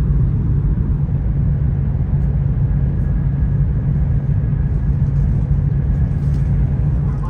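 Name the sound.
Whoosh high-speed train running at 315 km/h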